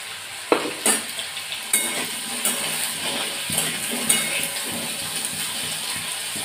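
Potatoes are stirred and fried in a pan for a simple cauliflower and potato dish, making a constant close sizzle. A spatula scrapes and knocks against the pan in irregular strokes over it.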